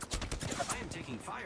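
Rapid bursts of gunfire in the battle royale game Apex Legends, dense and continuous across a short stretch, with other game sounds mixed in.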